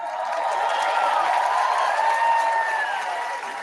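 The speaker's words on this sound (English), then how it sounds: "I don't like that applause." Sustained audience applause mixed with crowd cheering, steady and fairly loud throughout, easing slightly at the very end.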